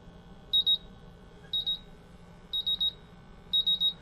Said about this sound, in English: The sensor is really fast, so it goes into alarm really quickly.